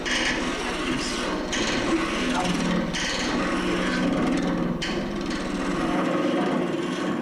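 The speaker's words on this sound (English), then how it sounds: "You drill a little hole like this, and then you start" Steady grinding drilling of a small hole into end-grain wood for a box runs continuously for several seconds, close by, with brief pauses in intensity and no talking.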